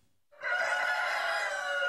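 A rooster crows loudly and close after a moment of quiet, its call held steady for over a second.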